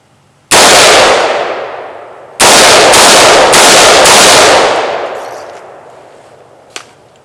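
Loud gunfire close by: one long blast, then a rapid string of four or five more shots, trailing into a fading echo, with no voices.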